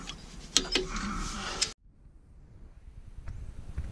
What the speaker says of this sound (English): we're going to torque these down